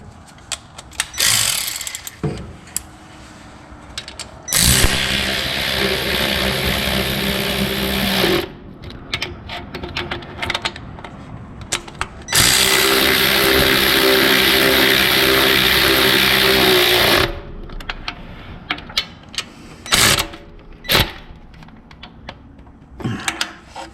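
Long bolts are tightened to draw an engine down into a 1966 Plymouth Belvedere, with two long, loud bursts of a running mechanical tool and scattered clicks and clanks between them, close by and with no talking.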